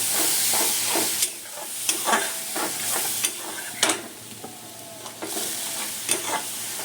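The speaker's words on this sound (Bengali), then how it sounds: "দেখো মশলাটা দিয়ে ভালো করে কষাও।" Spices stir-fried in a pan give a steady soft sizzle, broken by rhythmic scraping and clinking strokes of the spatula.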